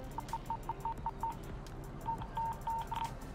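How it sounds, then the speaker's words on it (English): Mobile phone tones: a run of six short evenly spaced beeps, then four longer beeps, all fairly faint and heard over a busy background. "No, that's just my phone."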